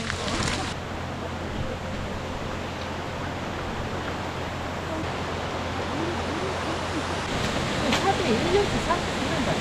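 A mountain valley stream in a forest on the Jeombongsan Gombaeryeong trail rushes with steady, broadband water noise throughout, fairly close and continuous, with faint voices and footsteps behind it.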